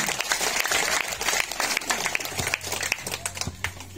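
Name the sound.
audience applause at a village head debate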